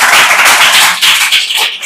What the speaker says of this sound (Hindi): अरे यार जोरदार ताली बजा दो ना यार